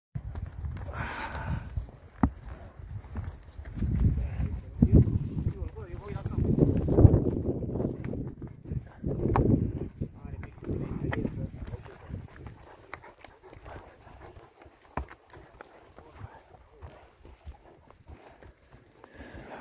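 Horse hooves clip-clop faintly and unevenly while riders travel on a mountain, with several people talking over the hoofbeats.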